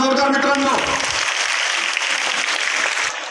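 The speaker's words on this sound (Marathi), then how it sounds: "अरे टाळ्या होऊन जाऊ द्या जोरदार मित्रांनो" A crowd at a Ganesh festival prize-distribution ceremony bursts into dense, sustained clapping right after a brief spoken line, and the clapping fades slightly at the end.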